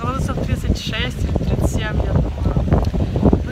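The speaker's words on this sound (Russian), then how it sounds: "И дует такой классный ветер" Strong wind gusts across the microphone at a Crimean seaside gathering on a hot day, a steady roaring rush throughout while someone talks over it.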